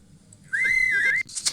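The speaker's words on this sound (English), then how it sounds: "There's the whistle." A single clear whistled tone held for about two-thirds of a second and wavering slightly in pitch, heard close over a faint murmur of a TV playing in the background.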